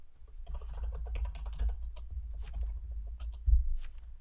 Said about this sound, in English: I hear typing. You hear typing.